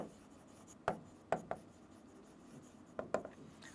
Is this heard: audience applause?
no